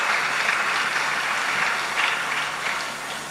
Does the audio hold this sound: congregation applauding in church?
yes